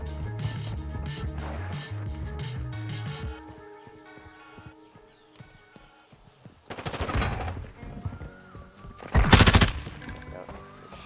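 Rapid SMG gunfire in the Modern Warfare video game, bursts of shots rising loud in the latter half over a busy game soundtrack.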